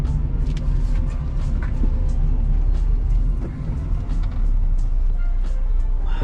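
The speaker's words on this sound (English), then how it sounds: "that engine must be kept up on. It sounds super quiet and behaved." A quiet, well-kept Acura Integra GSR engine hums steadily in a cul-de-sac, not yet warmed up, giving a low continuous rumble with little variation and no voices.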